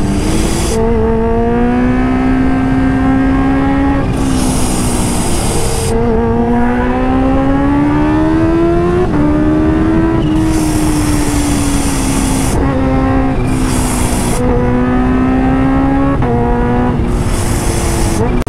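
A Kawasaki H2 motorcycle fitted with Smart Boost accelerates hard. A loud, close engine roar climbs steadily through several gear changes and stays continuous with no pauses.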